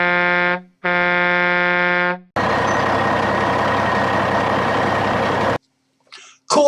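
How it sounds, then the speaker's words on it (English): Loud truck air horns blast twice in a row, then a dense, roaring engine and traffic noise swells and cuts off abruptly, followed by a brief faint sound near the end. "they will encounter a mix of smog, diesel fumes and very loud honking truck horns."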